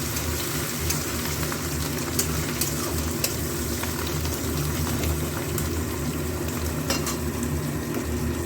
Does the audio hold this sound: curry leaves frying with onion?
yes